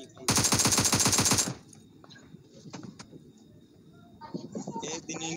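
A fast, loud burst of automatic gunfire from a red-dot-sighted gun in a video game rattles for about a second, followed by quieter game sounds and faint muffled background noise.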